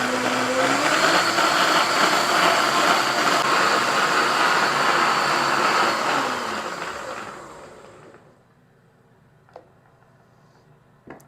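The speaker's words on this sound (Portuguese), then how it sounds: "eu vou bater eles agora aqui no meu liquidificador" A loud blender whirs steadily for several seconds mixing liquid ingredients for a vegan vanilla cake batter, then winds down and stops, leaving a quiet room with a couple of faint clicks.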